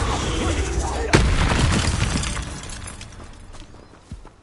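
A Confringo blasting spell bursts in Hogwarts Legacy with a sharp, loud crack around the one-second mark, followed by a dense, rumbling blast that slowly fades away, with a small thud near the end.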